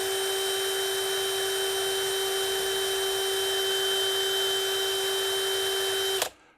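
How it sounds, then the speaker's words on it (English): A drill motor whines at high speed with a steady, piercing tone that holds evenly, then cuts off abruptly near the end. "going to a faster speed on the drill motor."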